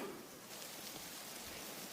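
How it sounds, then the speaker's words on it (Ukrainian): Rain starting to fall outdoors in a forest during mushroom picking, a soft, even hiss of drops spread across the whole stretch with no distinct individual impacts and no voices. "Для повного щастя ще дощ пішов."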